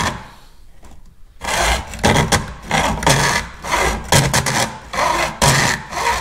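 A small saw cuts a part during a Dodge Viper supercharger install. After a quiet start, a run of loud, rhythmic rasping strokes repeats in close succession, recorded up close.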